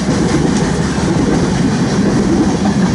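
A 4-bay rapid discharge hopper train rolls by close at hand, a loud, steady roar of wheels and rumbling cars with coal pouring out, dense and unbroken throughout.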